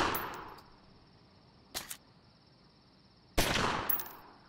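Sharp synthetic gunshots ring out in the video game Omerta: City of Gangsters, a short double burst followed by a louder blast with a ringing tail.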